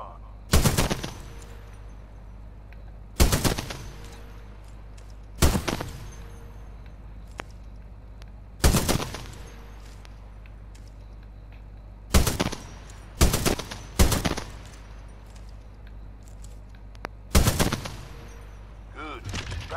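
Weapon fire in the video game Titanfall 2: loud, sharp bursts of gunfire in short volleys spread at irregular intervals, each with a quick ringing tail, over a low steady background hum.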